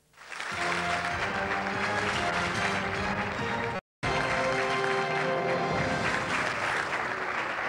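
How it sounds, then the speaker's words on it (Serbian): A studio audience on the quiz show Who Wants to Be a Millionaire applauds a contestant from Belgrade: dense, loud, sustained clapping that cuts out briefly midway before resuming just as strongly. "Aplauz traje i traje za naše takmičara Slobodana Rušpića iz Beograda"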